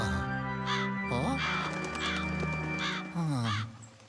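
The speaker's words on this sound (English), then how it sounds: "The crows." Several harsh crow caws from the Luigi's Mansion 2 HD video game, repeated calls in quick succession over a sustained background tone, loud and close.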